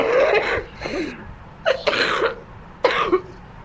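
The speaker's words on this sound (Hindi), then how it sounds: "माइक से आवाज़ आ रही है खांसने की" A person coughing into a microphone during an online programming class, three or four close, loud, harsh bursts spaced over a few seconds.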